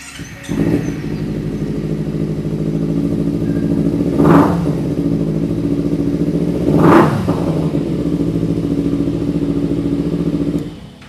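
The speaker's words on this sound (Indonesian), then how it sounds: "itu dia tadi suara dari Ninja 250 full injeksi tahun 2016" A 2016 fuel-injected Kawasaki Ninja 250 motorcycle engine runs loudly up close, revving sharply twice between stretches of steady idling.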